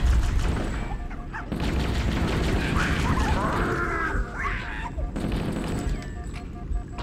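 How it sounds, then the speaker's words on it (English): Explosions in Halo CE boom and crash through continuous, noisy combat, with gunfire and warbling alien effects layered over one another. A player's voice can be heard partway through. "The whole place exploded!"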